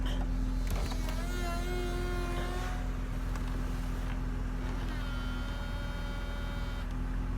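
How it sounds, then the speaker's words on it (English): A 2004 BMW Z4 E85's convertible-top hydraulic pump motor, relocated to the trunk, whines steadily with a constant hum and rising and falling tonal sweeps, mid-distance and continuous for several seconds without talk. "Could be because I moved the motor to the trunk. That's making a little more noise."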